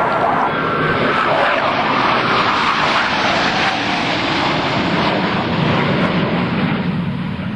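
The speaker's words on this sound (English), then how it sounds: "From the right, the Blue Angel double Farvel." US Navy Blue Angels jets pass in the double Farvel at a 2003 Rhode Island Air National Guard open house, a loud sustained engine roar filling the air from start to finish.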